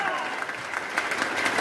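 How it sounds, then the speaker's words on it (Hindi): An audience at an RCM Business seminar claps with both hands raised, a brief burst of steady crowd applause lasting under two seconds. "दोनों हाथ ऊपर करके ताली थोड़ी मर्दों वाली चाहिए सर"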